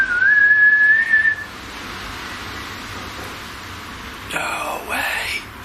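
A single whistled tone, rising slightly and then held for about a second, is answered a few seconds later by faint rustling and breathy noise during a ghost-hunting session in a quiet room.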